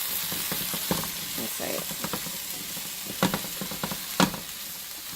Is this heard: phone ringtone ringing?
no